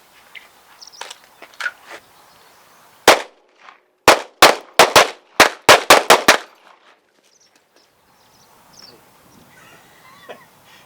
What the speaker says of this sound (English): on the command to fire, we're going to fire 2 rounds and step to the left